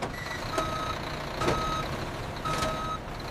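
A truck reverses onto the weighbridge at a ketchup factory, its backup alarm beeping three times in a slow, even rhythm over a low idling engine and steady industrial hum.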